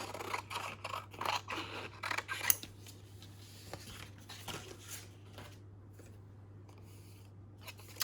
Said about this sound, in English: So I'm just going to cut this out roughly first.